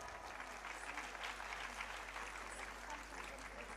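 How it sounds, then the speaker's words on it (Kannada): Audience applause for RCB school kids after their stage performance at the Arogya Jyothi Awards Karnataka 2025 event; dense, steady clapping from a large crowd that fills the whole stretch at an even level, with no voices standing out. "ಕಿಡ್ಸ್ಗೆ ಬರಲಿ ಜೋರಾದ ಚಪ್ಪಾಳೆ."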